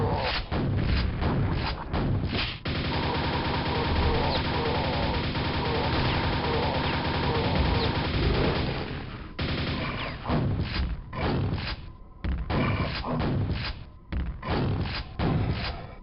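Heavy thudding blasts from a rocket launcher in Quake, near and loud, fired in clusters with a long stretch of sustained rumbling and game noise between the volleys.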